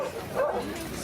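Small dogs yip and whimper at a hunting and fishing fair, short excited bursts close by amid crowd noise and a person talking.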